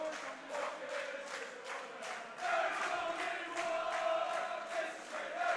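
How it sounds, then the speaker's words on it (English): Crowd at a Clan Wars grappling match cheering and chanting, a faint, distant roar with rhythmic pulses of shouting that swell and recede in waves. "The crowd getting in the action here."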